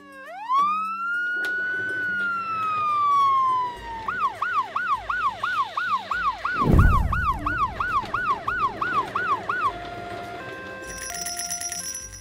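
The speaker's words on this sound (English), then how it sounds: "I called the toy ambulance already." A toy ambulance siren winds up, then wails in rapid repeating electronic yelps with a thump partway through, ending in beeping tones.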